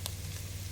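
Pickled mustard greens hit a pot of hot garlic and ginger for Szechuan pickled mustard fish soup, with one brief splash of sizzle up front, then a steady close frying hiss and a low rumble underneath.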